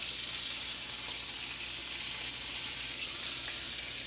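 A pork chop sizzles steadily in a covered pan, a continuous bright, hissing fry that holds even and close for the whole stretch, with no voices over it.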